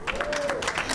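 Audience applause at a mentorship event honoring young women who ran in an election, a brief burst of dense clapping, fairly close and lively, lasting about a second.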